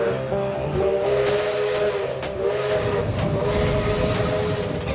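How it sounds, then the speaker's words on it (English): A century-old steam locomotive arrives at a station platform in the Andes of Ecuador. Sharp bursts of steam hiss repeat at a regular beat over a steady whistling, droning tone, loud and fairly close. "a century-old steam locomotive pulled up to the platform."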